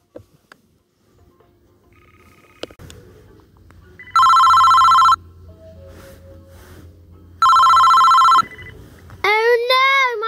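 Cartoon telephone ringing in two loud electronic bursts, each about a second long with a pause between, over quiet background sounds, followed by a warbling tone at the end.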